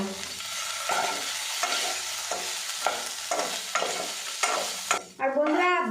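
A spoon stirs a mixture seasoned with ketchup, chili powder and salt in a pan, giving a repeated rhythmic scraping over a gentle sizzle, ending with a brief clatter.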